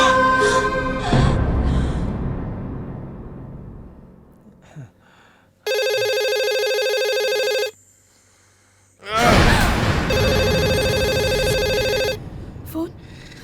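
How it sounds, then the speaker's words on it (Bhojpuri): A telephone rings in two loud electronic bursts, each lasting a couple of seconds with a pause between them. A sigh and a gasp come before the ringing. "फोन काहे ना उठाओ ताड़ी, लगातार सुत गइल"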